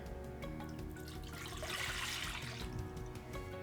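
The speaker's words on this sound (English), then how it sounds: "We got 2 cups of almond milk. That's gonna go right in my big bowl here." Two cups of almond milk pour into a big mixing bowl for vegan cinnamon roll dough, a steady close splashing gush that swells in the middle and trails off, with no talking.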